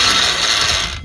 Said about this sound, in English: I'm releasing the brake on the winch and putting the release lever in so that I can pull the web out